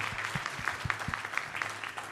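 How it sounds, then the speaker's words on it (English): Symposium attendees applaud the panelists after a workforce development discussion, a moderate, even patter of clapping from a mid-sized crowd with a few distinct louder claps, heard at some distance. "can we just give a round of applause for them and everything they contributed?"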